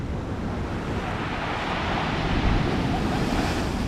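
Big storm waves surge on the sea at Yalta, making a continuous, heavy roar of surf and wind that swells slightly louder toward the end, with no voices.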